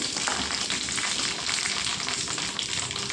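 Green chillies frying in hot oil for a Telugu roti pachadi, a steady, close and fairly loud sizzle with crackling bursts throughout and no talk.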